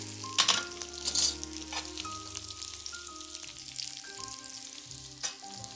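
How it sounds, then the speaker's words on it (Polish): Hunter's sausage spiced with juniper, cut up and frying in a pan with oil, making a close, crackling sizzle with a few sharper spits and pops, alone with faint tonal background sounds. "Już mogę dorzucić kiełbasę."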